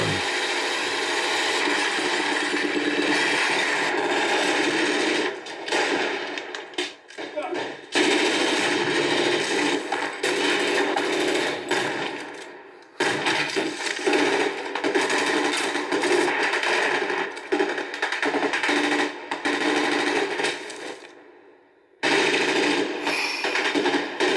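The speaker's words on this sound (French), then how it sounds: "He's got a Tommy gun." A Tommy gun fires long, rapid, loud bursts with brief pauses between them, like a game or film soundtrack, with voices heard now and then.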